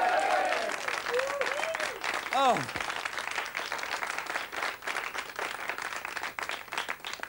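A studio audience on a 1994 talk show breaks into sustained applause, a dense wash of clapping that swells early and continues throughout, with a brief exclamation and some musical sting tones heard near the start.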